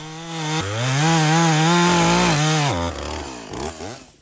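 A Husqvarna chainsaw cuts into the trunk of a red oak, its engine droning loud and close, then dropping and bogging as the saw stalls in the cut, leaving a sputtering, faltering tail.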